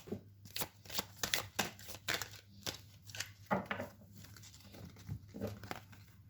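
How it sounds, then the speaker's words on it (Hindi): Tarot cards are shuffled and handled close by, giving quiet repeated riffling and slapping bursts in an irregular rhythm, with no talk. "बहुत सारे कार्ड्स आ गए हैं, मैं ऊपर लगा देती हूँ।"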